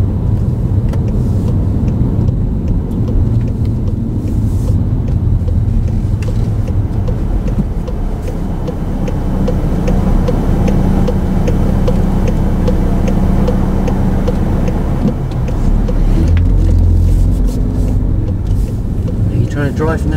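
A car cruises on a road during a mock driving test, with steady engine and road rumble inside the cabin and a faint ticking indicator, while people talk over it throughout.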